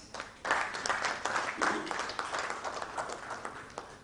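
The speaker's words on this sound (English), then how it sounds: "Round of applause," Audience applause at an education summit, a steady wash of many hands clapping from the room that swells in at half a second and carries on without talk.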